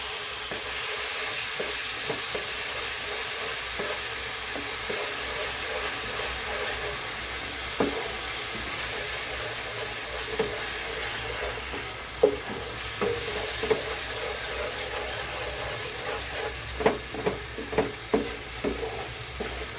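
Jamun pulp bubbles and sizzles in ghee in a kadhai while a spoon stirs and scrapes it, a steady close hiss broken by sharper knocks and scrapes that grow more frequent toward the end.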